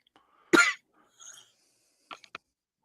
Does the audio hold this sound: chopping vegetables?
no